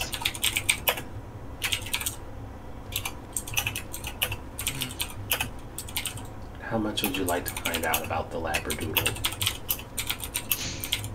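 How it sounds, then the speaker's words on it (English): Rapid, forceful clicking on a computer keyboard during an online Vampire: The Masquerade tabletop role-playing session, bursts of sharp keystrokes running throughout beneath a nearby voice that speaks over the typing. "Also aggressive key clicking."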